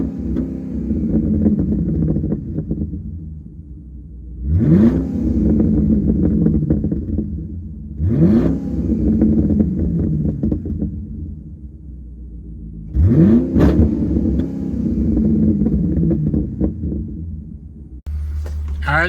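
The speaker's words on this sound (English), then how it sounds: "give you a quick sample of what the car sounds like revving it up" A 2013 Chevy Caprice PPV, built by Holden in Australia, revs its engine three times in succession, each rise climbing sharply to the rev limiter before dropping back to a rumbling idle, heard close and loud.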